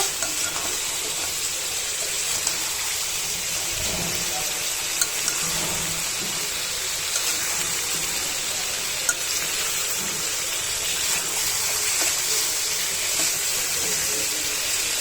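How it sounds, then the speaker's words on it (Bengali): Chicken braising and frying in a spiced gravy, a steady hiss and sizzle throughout with occasional soft stirring knocks, close and fairly loud. "চিকেনটা কষানো হয়েছে"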